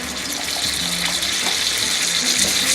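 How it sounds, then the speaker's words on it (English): Chicken stock splashes into a pan of pork loin pinwheel, a steady close gush of pouring liquid running throughout with no talk. "I'm going to put a little splash of chicken stock in there"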